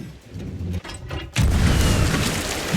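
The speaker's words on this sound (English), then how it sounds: "And then shoot myself out of a cannon." A cannon launches the player in a console video game: a sudden loud boom hits partway through, followed by a sustained roaring rush of noise, with quieter game sounds before it.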